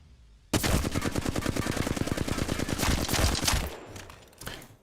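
Automatic weapon fire in Apex Legends, a rapid, sustained burst of evenly spaced shots lasting about three seconds, loud and close, then trailing off into a short tail and a final faint report.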